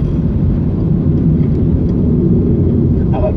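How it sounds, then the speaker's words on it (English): An airplane lands and bumps along the runway at a tiny airport in Guada, a steady loud engine roar with low rumble throughout, close and continuous. "Plane lands, and we bump along the runway"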